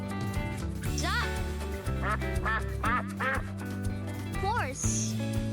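Duck quacking in a children's animal-sounds nursery rhyme, several short rising calls spaced through the clip over steady, loud backing music, with a voice naming the animal.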